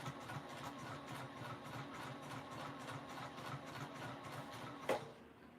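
A sewing machine stitches around the edge of a fabric emo bag with a faint, steady, rapidly pulsing motor hum that runs throughout, ending in a brief louder knock, with no talking.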